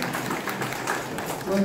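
Applause from an audience at a local literature exchange exhibition in Busan, greeting the chairman as he steps up to speak. It is a steady, fairly even patter of many hands lasting under two seconds, with a faint tonal sound creeping in at the end.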